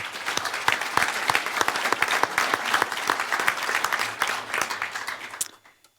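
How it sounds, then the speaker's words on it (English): Applause from the audience at a district council candidates event, vigorous sustained clapping from a crowd that fades out abruptly at the end. "So another round of applause, please."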